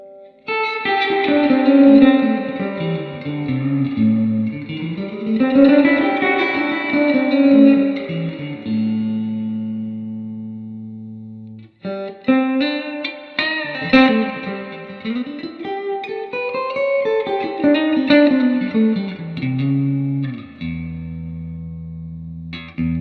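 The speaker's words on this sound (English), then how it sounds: "Check out the reverb." Electric guitar played through a 1966 Fender Deluxe Reverb amp with the reverb on, two strummed phrases of ringing chords and runs with a wet, splashy spring-reverb tail and held low notes between them, close and fairly loud, no talking.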